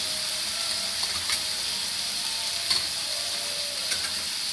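Onions fry in a pan with salt and a little turmeric, a steady close sizzle broken by a few soft stirring scrapes.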